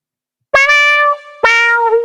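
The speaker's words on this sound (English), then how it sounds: "touch wah, or sometimes it's also called auto wah." Trumpet run through a touch wah, or auto wah, filter that follows the loudness of the playing, giving two bright sustained notes whose tone sweeps as each one sounds. The notes are loud, close and heard alone.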